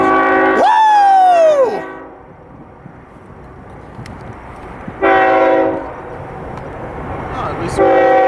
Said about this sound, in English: Here comes the westbound pure TOFC freight.